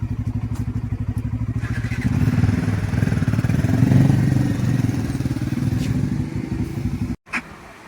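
A road vehicle drives up onto the Ganga Expressway from a toll plaza, its engine rumbling steadily and loud and close with a rattling, motorbike-like throb that builds briefly before cutting off near the end.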